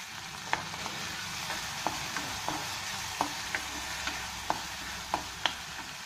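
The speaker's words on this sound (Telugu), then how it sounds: "ఒక నిమిషం ఫ్రై చేద్దాం" Red chilli and tomato paste fries in a pan, a steady soft sizzle running throughout, punctuated by sharp, irregular clinks of a spoon stirring against the pan.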